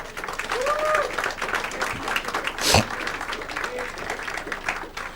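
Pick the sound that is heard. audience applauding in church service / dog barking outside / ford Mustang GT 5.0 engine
audience applauding in church service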